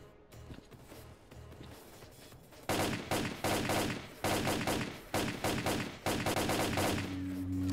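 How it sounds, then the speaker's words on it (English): Bursts of automatic gunfire in S.T.A.L.K.E.R.: Clear Sky, loud and close, come in repeated clusters after a quieter opening with footsteps, then give way to a steady hum. "Almost like this gun is made for shooting and murdering people"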